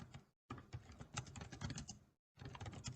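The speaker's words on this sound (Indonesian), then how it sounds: "Kita dapat mengetikkannya" Rapid clattering keystrokes on a computer keyboard, close and steady, with two brief silent gaps between bursts of typing.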